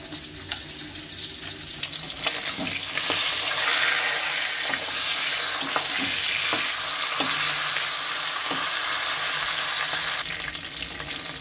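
A hilsa fish head frying in hot oil in a pan for curry gives a steady loud sizzle with scattered pops and crackles and occasional stirring knocks, rising slightly after a few seconds and easing near the end.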